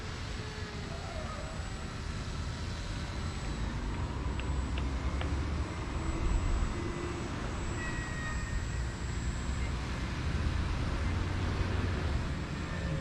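A paramotor engine drones steadily in flight under a new wing, a constant buzzing roar with wind rushing over it, rising slightly in places as the power changes.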